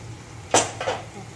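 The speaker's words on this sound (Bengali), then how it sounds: "চাপাটা তুলে নেব" A lid is lifted off a cooking pot of prawns with kochu loti, giving one sharp metallic clank and then a softer second clatter, both close, over quiet kitchen background.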